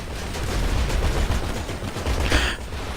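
Sustained gunfire in a vehicle combat video game, a dense, loud, continuous rattle of shots with a brighter burst near the end and no talking.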